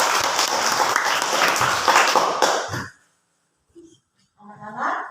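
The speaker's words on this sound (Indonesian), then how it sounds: "Tepuk tangan untuk kelompok 2." A class of schoolchildren claps loudly and rapidly for group 2 in a classroom. The applause stops abruptly, followed by a brief silence and then a voice speaking.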